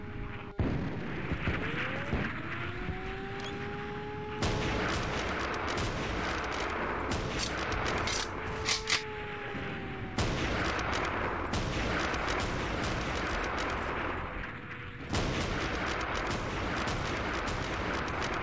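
Rifle fire in the steampunk shooter The Principality of Mars, a 2008 FPS Creator game: loud, dense bursts of shots and echoing blasts running continuously under a droning tone, with no talking.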